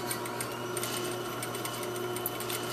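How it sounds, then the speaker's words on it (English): A sewing machine stitches steadily right beside a seam on a welt pocket, backstitching to secure it; a continuous close mechanical whir with fine rapid needle ticking and no talk. "we're just going to stitch right next to this seam to hold it in place"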